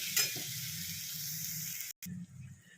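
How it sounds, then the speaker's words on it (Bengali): Spices sautéing with soybean and tomato in a pan for soybean kosha, a bright steady sizzle and hiss with a couple of stirring clacks early on, briefly cut off near the end before resuming, no speech. "দিয়ে এবার ওটাকে একটু ভালো করে কষাবো। টমেটোটাও গলে যাবে।"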